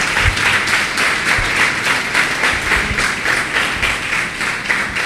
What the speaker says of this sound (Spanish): Dale un fuerte aplauso ahí al Señor